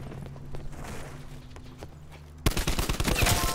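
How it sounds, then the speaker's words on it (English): Call of Duty Black Ops 4 hardcore match gunfire: quiet footsteps at first, then a sudden loud burst of rapid automatic shots with no talking. "Oh, I almost shot my teammate there."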